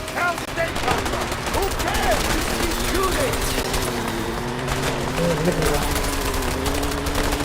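Rapid bursts of gunfire from the Wayout video game crackle continuously beneath loud, overlapping talk, with engine-like droning throughout.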